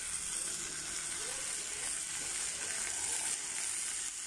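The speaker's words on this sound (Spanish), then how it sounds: "Mire cómo chilla la cacerola" A pot of food sizzles and crackles steadily while it cooks without any oil, a constant close hiss with no pauses.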